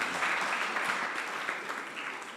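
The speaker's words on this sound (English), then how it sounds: "A round of applause for Prof." An audience at a community dialogue applauds a professor, a dense burst of clapping that stays fairly steady and moderately loud, slowly tapering over a couple of seconds.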